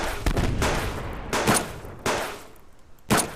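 Gunshots in the survival video game Subsistence: four loud, sharp single reports spaced about a second apart, each with a short fading tail, no talking over them.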